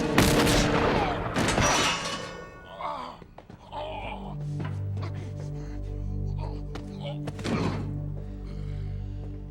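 A gunshot from the TV series Firefly: a sharp loud blast at the start, followed by a few dull thumps and low booms under a sustained musical score, with another sharp crack later on.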